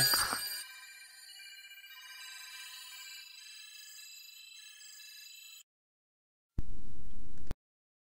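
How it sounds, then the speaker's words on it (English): Telephone ringing in a radio production booth, a steady electronic trill lasting several seconds, then a pause and a brief louder burst of noise at the end. "phone is ringing off the hook here"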